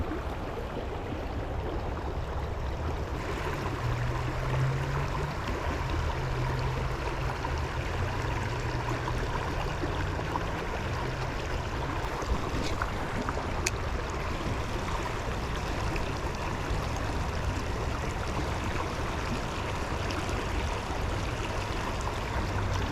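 Steady broadband rush of river water flowing around a wader in an urban river, continuous and fairly close, with no talking.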